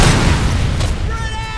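Gunfire in the shooter game RoboCop: Rogue City, heavy booming shots with a thick low-end thud, followed by fainter crackle and a voice speaking toward the end.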